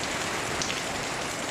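Steady rain in Riyadh patters on a surface, an even hiss of many drops with no pauses.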